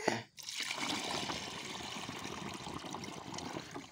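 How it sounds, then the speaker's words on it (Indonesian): Water trickles and splashes steadily into a motorcycle tank, a faint, continuous liquid stream after a brief gap at the start. "Sekarang kita masukkan air ke tangki."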